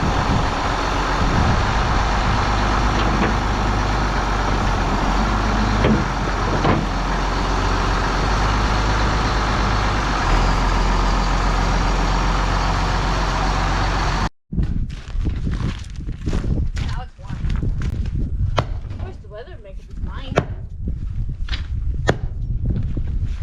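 A tractor carrying a full rack of front weights drives steadily with a loud, continuous engine rumble, then the sound cuts to a quieter scene of scattered clunks and rattles nearby.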